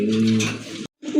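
A pair of pigeons gives a short, close, throaty coo, which breaks off suddenly before a brief murmur resumes.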